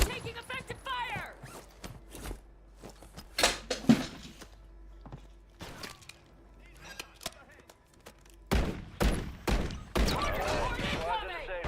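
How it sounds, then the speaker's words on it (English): Rapid gunfire bursts and scattered single shots in Call of Duty Warzone crackle in and out as uneven sharp cracks, with a few louder volleys, under game voice callouts and other battlefield noise. "Taking effective fire!"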